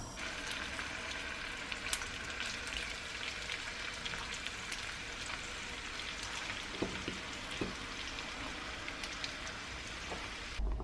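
Chicken frying in a pan of oil and butter gives a steady, dense crackling sizzle that runs the whole time, with scattered louder pops and no voices.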